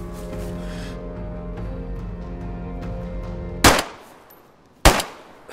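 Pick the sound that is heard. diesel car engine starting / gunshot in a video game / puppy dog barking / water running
gunshot in a video game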